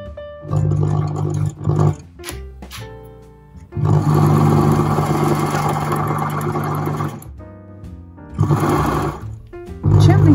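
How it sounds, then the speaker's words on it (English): A sewing machine top-stitches along the seam of a linen face mask, running in several loud, close whirring bursts of varying length separated by short pauses. "line up the indent of the foot here with the seam and follow that along as you sew"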